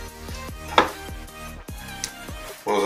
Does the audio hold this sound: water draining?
no